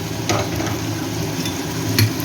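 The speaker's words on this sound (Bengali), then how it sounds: "উচ্ছে আর কাঁকরোল ভাজছি" Steady oily sizzling of bitter gourd and spiny gourd frying in a pan, with a couple of soft scraping stirs, close and fairly loud, no talking.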